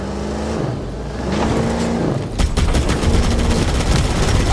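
Rapid bursts of automatic gunfire rattle loudly over a droning vehicle engine in the Halo Campaign Evolved video game, a dense stream of close shots filling the latter half.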